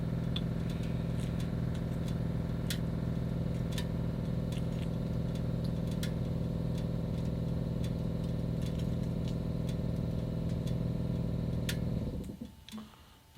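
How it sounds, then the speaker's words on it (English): An air compressor runs steadily and loudly in a garage, a constant mechanical hum with faint ticking, then cuts off abruptly near the end. "Here goes my compressor."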